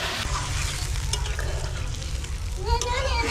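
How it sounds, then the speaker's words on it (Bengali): Fish curry masala sizzles loudly in a pan as water goes in and a spoon stirs it, a close, continuous hiss and crackle with brief higher chirps near the end. "এবার আমি জল দিয়ে দেবো।"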